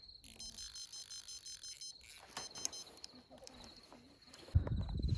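High electronic beeps from a fishing bite alarm repeat in short bursts outdoors on a carp fishing trip, followed by a louder splashing thump near the end.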